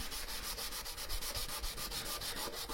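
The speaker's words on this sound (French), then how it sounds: "Je vais vous me poncer un bout du garde-boue" Close, rhythmic scratchy strokes of hand sanding on a car mudguard with 120-grit paper, a fast back-and-forth rasp repeating evenly with no voices.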